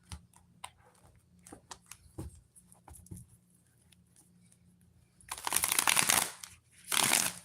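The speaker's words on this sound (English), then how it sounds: "Shuffle up these cards real good." Tarot cards being shuffled during a reading, quiet scattered riffles and taps at first, then two louder, denser bursts of card shuffling near the end, with no talking.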